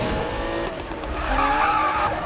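Tires squeal in a sustained drift as a race car slides through a corner in Need for Speed, a loud continuous screech with wavering pitch over steady engine noise, no voices.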